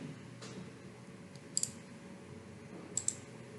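Two pairs of crisp computer mouse clicks, spaced about a second and a half apart, sound close and sharp over a faint, quiet room hum while working in a Visual Studio MVC project.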